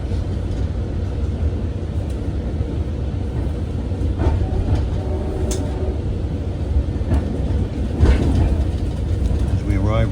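Onboard an LIRR Greenport Scoot train in snow near Riverhead: a loud, steady low rumble of wheels and car noise, with occasional squeals and clunks, and people talking faintly under it.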